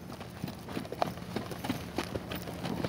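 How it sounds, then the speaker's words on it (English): A horse trots with steady, rhythmic clip-clop hoofbeats at moderate distance, faint and even, with no talking. "This trot is smooth"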